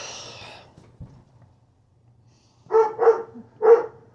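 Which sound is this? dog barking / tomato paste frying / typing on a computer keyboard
dog barking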